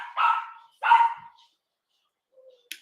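Dogs bark twice in quick succession, loud and close, followed by a brief faint yip in an otherwise quiet indoor setting.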